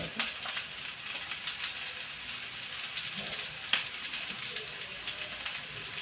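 Curry leaves hit hot oil in a pan while cooking pigeon pea rice, giving a steady, dense crackling sizzle with a few sharper pops, close and fairly quiet, with no voices.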